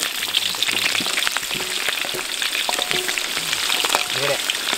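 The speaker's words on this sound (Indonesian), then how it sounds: "Sekarang kita goreng, bawang merah, bawang putihnya." Potatoes, shallots and garlic frying in hot oil for Padang-style soto, a steady dense sizzle with occasional stirring clinks and scrapes, close and continuous with no talk.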